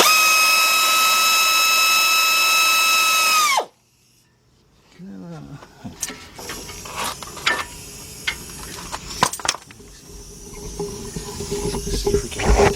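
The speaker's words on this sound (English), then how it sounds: "Get my 18 millimeter socket again. Put it on my air ratchet." An air ratchet with an 18 mm socket removes bolts from the rear brakes of a 2007 Chevy Tahoe: a steady high pneumatic whine spins down abruptly, followed by clanks, clicks and workshop handling noises.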